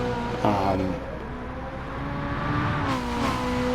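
The engine of an Alfa Romeo 4C hums steadily while driving and rises in pitch through gear changes, with a sustained drone and tire and road noise throughout.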